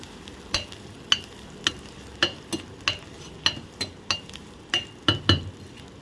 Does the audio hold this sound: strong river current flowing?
no